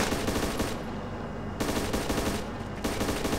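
Rapid machine-gun fire in a realistic war video game, loud sustained bursts broken by two short pauses, with no voices.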